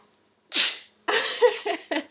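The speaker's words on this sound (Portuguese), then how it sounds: "Tinha que ser uma espirradinha para acabar." One sharp, breathy sneeze up close, followed after a short pause by a few loud, huffing vocal bursts.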